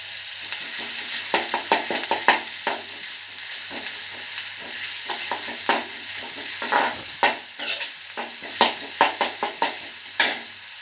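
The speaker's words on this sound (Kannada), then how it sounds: "ಚೆನ್ನಾಗಿ ಫ್ರೈ ಆಗಲಿ." Finely chopped onion frying in oil in a pan, a constant hiss of sizzling broken by repeated scraping and tapping as a spatula stirs it, close and fairly loud, without speech.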